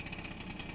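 Vespa scooter engine idling with a low, steady putter while the clutch is held in, faint and brief with no voices.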